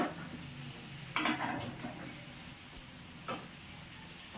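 Coconut chicken fry sizzles in a pan, with a steady close hiss broken by short bursts of stirring and scraping against the metal.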